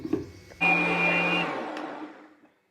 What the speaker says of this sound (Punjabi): ਸਾਰਾ ਕੁਝ ਇਕੱਠਾ ਹੀ ਗ੍ਰਾਈਂਡ ਕਰ ਲਿਆ ਕਰੋ